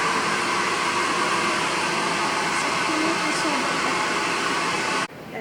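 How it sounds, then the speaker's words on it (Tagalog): A hair dryer blows steadily and loudly on hair during an at-home pamper session, a continuous broadband whoosh that holds for about five seconds before cutting off abruptly. "Tapos i-blower na lang."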